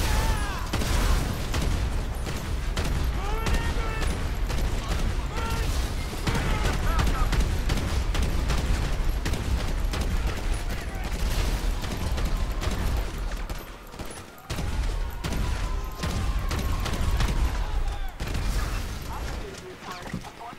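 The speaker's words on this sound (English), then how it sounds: "I will shoot the pistol." Pistol gunfire in a chaotic shootout, dense rapid bursts of shots layered over a constant rumble and talk, loud throughout with a brief dip near the middle.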